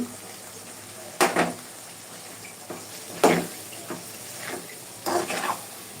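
Garlic pickle being stirred in a pan after sugar goes in, with a few soft utensil scrapes and clinks at intervals over a quiet background and no talking.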